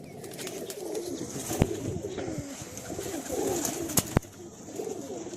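Pigeons coo in steady, overlapping low murmurs close by, with a few sharp clicks or taps cutting through the cooing.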